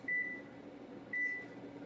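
A kitchen microwave oven hums steadily as it cooks food, with a thin high beep sounding twice, close and clear, and no voices.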